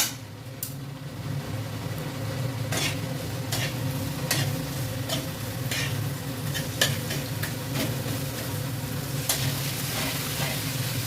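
Grated tomato going into a hot frying pan and being stirred, a continuous loud sizzle with sharp scraping spatula strokes at irregular intervals, close up and steady throughout, no voices.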